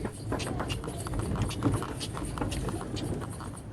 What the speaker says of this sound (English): We were picked up at the dock by a local horse and cart